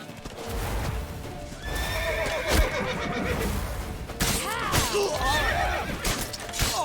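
A horse whinnies loudly over steady clip-clopping hooves and a busy, layered soundtrack in The Witcher 3: Wild Hunt.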